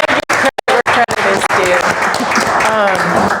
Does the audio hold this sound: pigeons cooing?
no